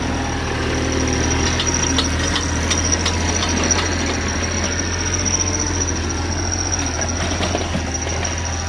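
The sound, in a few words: Kubota KX91-3 used excavator engine running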